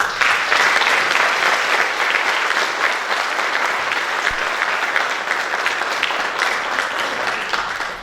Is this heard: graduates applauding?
yes